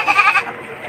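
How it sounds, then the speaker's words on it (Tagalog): An Anglo-Nubian goat at a livestock market gives one short, nasal bleat up close, wavering for under half a second before fading into quiet background. "May lahi na po ang kambing na ito."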